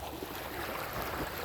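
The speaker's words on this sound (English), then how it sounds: "Hear those waves, the sound of the water." Ocean waves wash up on a beach during a morning walk, a brief steady rushing roar of surf filling the background with no speech.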